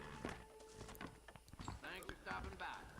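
A war horse in the Red Dead Redemption video game walks with quick clip-clop hoofbeats, heard under someone talking over the game sound.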